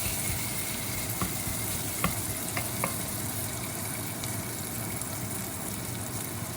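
Bacon frying in its own rendered fat, a continuous dense crackling sizzle with a few sharper pops scattered through, steady and close with no talking.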